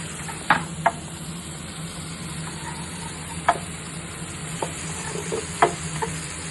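Capsicum stir-fries with tomatoes in a pan for chilli parotta, with a continuous soft sizzle and a few sharp spoon ticks against the pan at uneven intervals. No voices.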